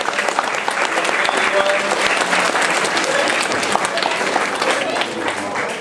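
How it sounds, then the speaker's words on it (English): Sustained applause from a school play audience, dense and steady clapping from a sizable crowd throughout, fairly loud and close. "I always want to give a round of applause to our teachers"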